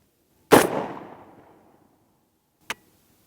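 A single sharp rifle shot, fired with a Velocity Precision recoil-less bolt carrier, cracks out close and loud and rings off into a short decaying tail, followed about two seconds later by a brief metallic click as the bolt carrier cycles.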